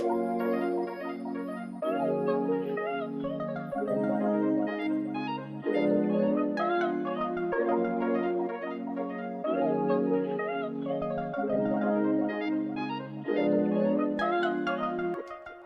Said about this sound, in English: I've added a vocal loop from the kit